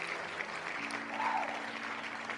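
A studio crowd on a game show breaks into applause, a dense, steady wash of clapping that holds at an even level throughout.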